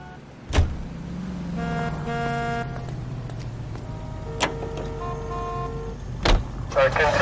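Car engine driving in L.A. Noire, a steady low hum that holds across the stretch with a few tonal chimes and a sharp knock or door thud at the start and near the end, and a sustained tone partway through.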